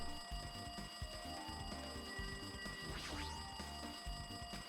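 A telephone rings in the video game Trapped in the Funhouse, a steady bright repeating bell tone over a noisy, cluttered game soundscape, fairly faint and continuous.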